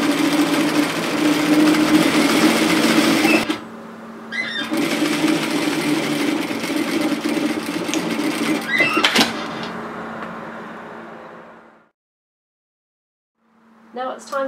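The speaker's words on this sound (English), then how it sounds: "I'm just going to start sewing my hem from a side seam" A sewing machine stitches a dress hem from a side seam, running as a steady close whir in two long bursts. A short pause with a clack separates them, then the motor stops into near silence and a voice speaks briefly.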